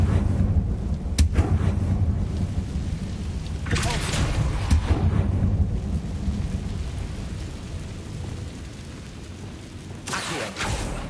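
A Confringo blasting spell from Hogwarts Legacy goes off as a burst of sharp cracking bangs over a low rumbling roar, with a second blast near the end.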